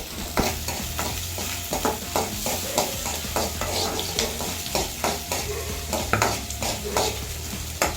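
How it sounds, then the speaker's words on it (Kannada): Onions fry in a pan for a fish curry, a steady close sizzle broken by repeated scraping stirs of the spoon that keep an uneven rhythm throughout, with no talk. "ಈರುಳ್ಳಿ ಫ್ರೈ ಮಾಡ್ಕೊಳ್ಳೋಣ"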